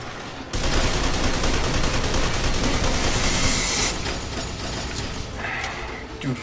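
Rapid sustained bursts from the Hammerhead gun in the video game F.E.A.R. 2, a loud mechanical fusillade that kicks in abruptly, rattles on continuously, then eases slightly near the end, with no talk.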